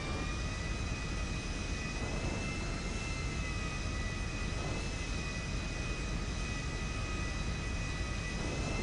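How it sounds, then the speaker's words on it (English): Steady, loud airplane engine roar with a constant high whine, holding level throughout as if the aircraft is rolling for takeoff, with no talking. "I'm treating this like a real takeoff."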